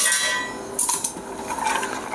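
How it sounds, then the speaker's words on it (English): Ice cubes dropped into a tall Collins glass for a Tom Collins cocktail, giving a few sharp clinks and clatters close by, with no talking. "And we'll ice that up all the way."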